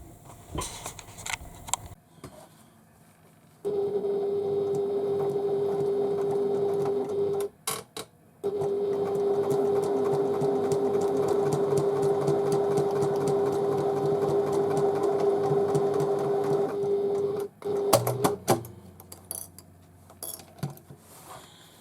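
A sewing machine stitches a diagonal seam across a tote bag, running in two long steady bursts with a strong motor hum and a brief pause between them, close and alone without talk.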